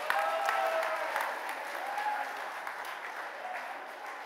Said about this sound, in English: give the winning group a round of applause